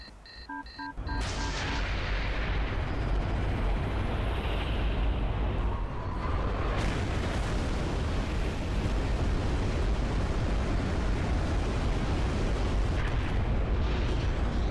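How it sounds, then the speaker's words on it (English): Covenant bomb detonating in Halo 3 multiplayer, a sudden massive blast that turns into a long, loud, roaring rumble that holds steady for many seconds. "Oh shit! I accidentally detonated the Covenant bomb!"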